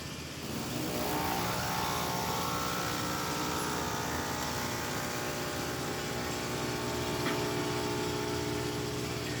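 A freshly serviced DeLonghi Magnifica espresso machine brews a shot after a full tune-up, its pump giving off a loud, steady droning hum that holds unbroken for the whole stretch.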